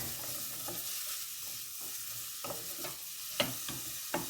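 Red onion sizzles steadily in a hot pan for a chilli con carne, with a few soft scrapes and stirring knocks breaking through the constant frying hiss.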